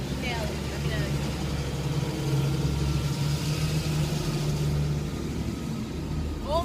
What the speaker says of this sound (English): All the old cars are coming up the street